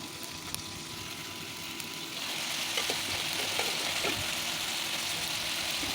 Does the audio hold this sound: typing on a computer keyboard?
no